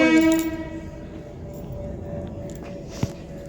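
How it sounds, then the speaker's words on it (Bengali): A train horn blares loudly at the start, then fades into a low steady rumble of a train standing at a station, with a sharp click near the end. "স্টেশনে এসে দাঁড়িয়ে রয়েছে ট্রেনটা"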